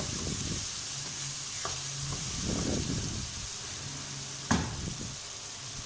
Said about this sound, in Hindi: टमाटर गलने तक हम इसको फ्राई करेंगे